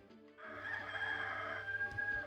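A rooster crows once on a farm, a long drawn-out call rising and holding, fairly close, with faint clucking around it.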